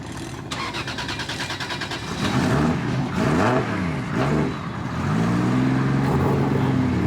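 An 800hp 2JZ-engined BMW E36 drift car revs hard in repeated rising and falling bursts on a track, then holds a loud, steady high-revving roar close by.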